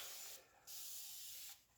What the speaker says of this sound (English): let me spray it with my rubbing alcohol